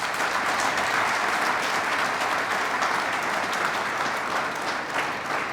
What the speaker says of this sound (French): Je vous y convie un tonnerre d'applaudissements.